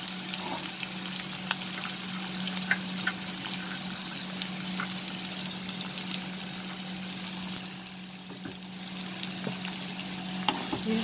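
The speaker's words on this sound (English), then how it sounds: "We'll saute the onion till it changes its color." Chopped onion sautés in hot oil, a steady close sizzle and crackle with a few faint stirring clicks running throughout, no voices over it.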